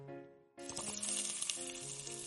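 Sliced potatoes being stir-fried in a pan for potato sujebi: a soft hiss starts abruptly and continues as steady sizzling, with faint scraping and rattling while the potatoes move. A quiet tonal background sound runs underneath.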